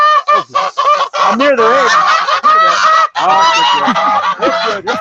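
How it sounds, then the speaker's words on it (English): Geese honk loudly and close by near a chicken pen, a dense, continuous chorus of harsh overlapping calls, with a man's brief speech partly buried under it. "I'm going to have to get around the geese."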